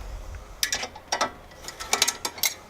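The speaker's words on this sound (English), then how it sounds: "Now my top nut's turning, so I'm gonna have to use my backup wrench" A wrench loosens the nuts on a Mitsubishi Evo X coilover with a series of crisp, close ratcheting clicks in short irregular bursts.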